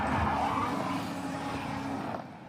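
A Cadillac XTS sedan engine strains loud and steady as the car climbs a steep off-road slope, with a continuous drone and rough tire noise fading slightly at the end.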